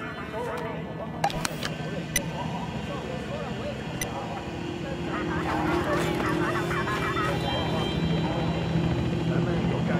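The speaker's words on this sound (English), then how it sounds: "Chopper above the plaza." A helicopter in the video game Battlefield 4 drones overhead above a plaza, its rotor hum growing louder partway through, with a few sharp clicks and scattered sounds in the background.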